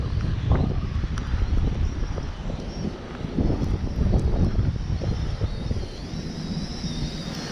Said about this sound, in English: That wind is really pushing it around though.